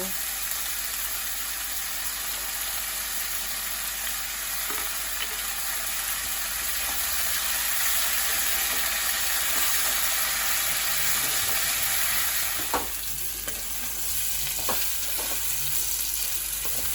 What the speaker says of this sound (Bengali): দুটো মাঝারি সাইজের পেঁয়াজ লম্বা লম্বা কেটে রেখে এটাকেও আলুর সাথে ফ্রাই করব।